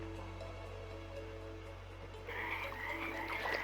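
A frog croaking sound effect for a cartoon story: a steady low drone carries a repeated croak that grows louder and more raspy toward the end, with no voices.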